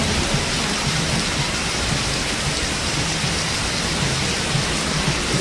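Heavy rain pours down steadily on a street in Budapest, heard from just outside a pub, a dense, even hiss of drops on hard surfaces that never lets up.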